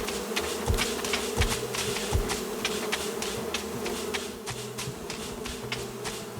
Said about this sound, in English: The bees are very loud.